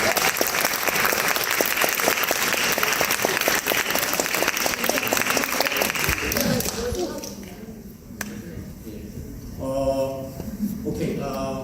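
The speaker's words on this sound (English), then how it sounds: "Can you give a round of applause?" Audience applause at a film Q&A for Crossroads of Youth: a dense, loud burst of clapping that sustains for about six seconds, then thins out as voices and some music take over.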